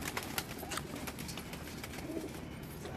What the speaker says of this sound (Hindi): रामपुरी कबूतर है।